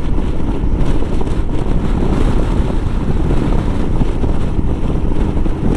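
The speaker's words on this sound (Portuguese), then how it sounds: "Não sei se vocês estão ouvindo o vento forte, as rajadas. Tem momentos que a moto ela vai de lado." Strong gusty wind buffeting the microphone while riding a Royal Enfield Himalayan motorcycle on a coastal highway, a loud continuous low roar with pulsing gusts and engine rumble beneath, no talking.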